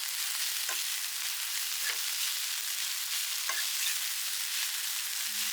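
Noodles cook in a pan on a small stove inside a camper van parked in the Cairngorms, Scotland, with a steady, close sizzling hiss broken by a few faint clinks.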